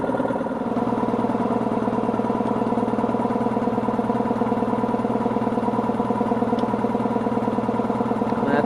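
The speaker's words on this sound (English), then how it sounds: "this is a perfectly good compressor, and I" An air compressor fitted with an undersized motor runs with a steady, close, loud droning hum and throbbing pulse, unbroken and unchanging, with no talk.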